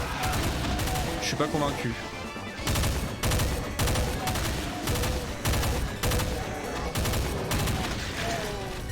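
A burst rifle in the game Doom II fires repeated loud bursts of rapid shots, separated by short gaps, while someone speaks French over the gunfire.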